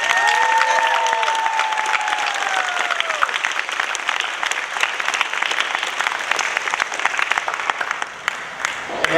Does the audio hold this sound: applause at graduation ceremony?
yes